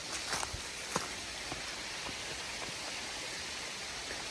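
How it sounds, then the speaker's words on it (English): A waterfall beside the Pinhoti Trail gives a steady, faint rushing hiss from a distance, with a few soft footfall-like taps early on and no talking. "I love waterfalls. Number 2, waterfall, that is."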